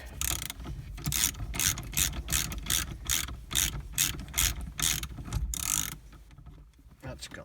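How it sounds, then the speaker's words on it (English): Ratchet wrench clicking in quick repeated bursts while the steering wheel center bolt is loosened on a Lancia Delta Integrale Evo2, close and crisp, ending in a quieter pause. "we can loosen the horn, loosen the center bolt off"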